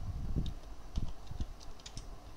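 Several scattered keystrokes on a computer keyboard while entering text in a web browser, soft clicks spread unevenly across a short stretch with a low background hum and no voices.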